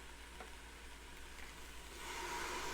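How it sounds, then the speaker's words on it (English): Faint sizzling from a pan with butternut squash soup ingredients starting to stick, a soft steady crackle that swells louder toward the end. "And you hear that sizzle?"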